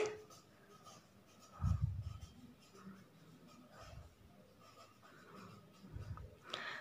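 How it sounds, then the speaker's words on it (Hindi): Marker or chalk scratching across a classroom board during a Hindi coding-decoding lesson, with short bursts of strokes and low thumps, quiet and close, with faint background noise. "पहले लिखेंगे नॉलेज"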